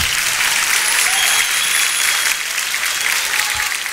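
A crowd breaks into applause: thick, loud, sustained clapping from many hands, an even roar of claps that holds steady for several seconds with no voices over it.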